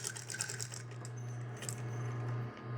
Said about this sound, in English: Now I'm gonna aim out, stitch out here to where I'm just a few stitches from the edge.